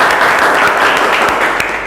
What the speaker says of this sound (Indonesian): kasih tepuk tangan dong untuk kelompok 1